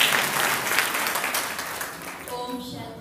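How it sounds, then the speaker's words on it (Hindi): A crowd applauds steadily at a spiritual gathering, the clapping dense and sustained throughout before tapering slightly near the end, with a faint voice briefly audible underneath. "ताली बजाओ दीप्ति बहन के लिए।"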